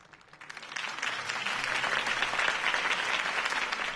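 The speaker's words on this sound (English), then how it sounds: "If only Mr. Wayne, my campaign's largest backer, could have heard that applause, he would well, there he is." Crowd applause swells up quickly and holds steady as dense, continuous clapping after a campaign speech in the Batman Telltale video game, moderately loud with no talk over it.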